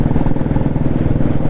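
Royal Enfield Classic 350 motorcycle fitted with a changed aftermarket silencer, idling close by with a loud, deep, steady thumping exhaust beat that continues without pause.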